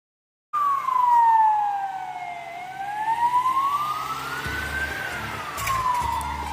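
Ambulance siren wailing in traffic in Northern Cyprus, a loud continuous rising and falling tone sweeping slowly up and down, with low traffic rumble beneath.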